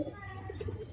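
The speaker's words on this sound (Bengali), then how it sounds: "মুর্শিদাবাদের খেলা পায়রা" Soft cooing from Murshidabad flying pigeons, a few low rounded coos close by over a faint background hum, brief and quiet.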